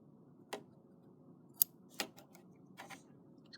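Scissors snip rope while a rope basket is being made, with four or five sharp, separate cuts at irregular intervals against a quiet background.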